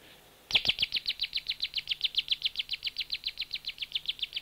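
An automatic mechanical bird recorded on a 1979 cassette tape starts abruptly and trills in a fast, steady series of about thirty identical bright chirps, close and clear over a faint hiss.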